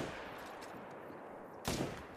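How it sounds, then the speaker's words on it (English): A single .300 magnum rifle shot in The Hunter: Call of the Wild at Layton Lake, one sharp loud crack over a faint hissy background, with no talk. "that's only a single shot"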